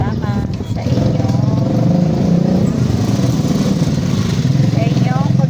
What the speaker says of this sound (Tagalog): Ayan ang motor. May maingay na motor guys.